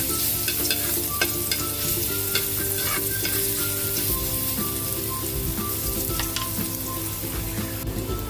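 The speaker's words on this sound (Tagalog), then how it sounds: "Lagyan natin ng mantika. Siyempre, lagyan na natin yung bawang." Garlic sizzling in hot cooking oil in a pan for sautéed chayote, a steady dense crackle with occasional stirring clinks, close and continuous throughout.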